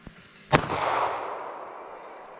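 A Ruger .380 pistol fires once outdoors, a sharp loud crack followed by a long fading echo, preceded by a faint small click.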